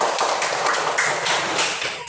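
A class gives loud, sustained applause, a dense wash of clapping from many students filling the room from start to finish.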